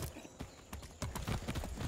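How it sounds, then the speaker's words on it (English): Hooves of a horse in Far Cry 6 clip-clop in a steady, close rhythm, with a few louder strikes partway through and faint game ambience underneath. "That's a good horse."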